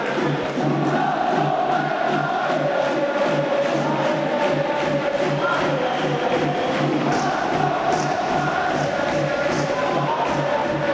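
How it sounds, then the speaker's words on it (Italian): Pallarigopiano supporters fill an indoor futsal arena with a dense, steady roar, with rhythmic chanting pulses and shouts running through it at close range and high volume. "Sta impazzendo il tifo del Pallarigopiano, tanto tifo"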